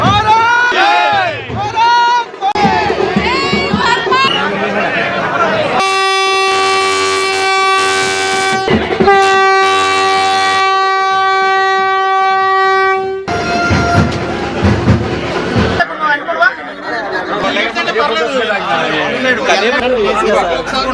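A Vande Bharat train arriving in Godavari district, India: the rumble of the passing train under voices, then a loud sustained two-part horn blast lasting several seconds before the noise of the cars and crowd chatter returns.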